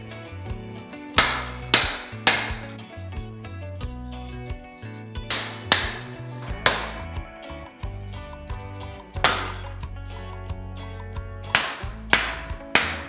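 A hammer taps metal tooling against the bolster of a forged cleaver in a workshop, sounding as sharp, ringing strikes, mostly single or in quick pairs spaced a second or more apart, close and loud, with no voices.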